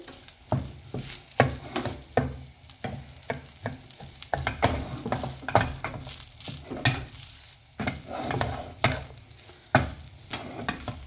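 Shrimps in hot sauce are stirred and fried in a pan: a sizzling bed under repeated sharp scrapes and clacks of the utensil, irregular and close.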